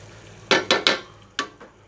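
A spoon knocks against a pot while sugar is stirred, four or five sharp metallic clinks in quick succession and then one more after a short pause, close and fairly loud.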